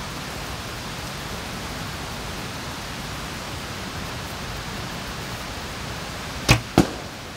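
Steady hiss of wind or rain fills the background, then two sharp snaps near the end as an Acadian Woods three-piece carbon bow releases and an arrow strikes.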